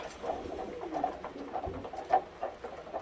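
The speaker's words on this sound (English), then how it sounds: "Oh, that pigeon there is a stray." Racing pigeons in a loft, young birds settling after their seed and drink, with soft low cooing and murmuring calls overlapping throughout, a slightly louder coo standing out near the end, plus faint shuffling and patter.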